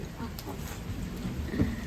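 Heavy rain falls steadily during a thunderstorm in Malappuram, a dense, constant hiss and patter with low rumbling underneath and voices faintly present.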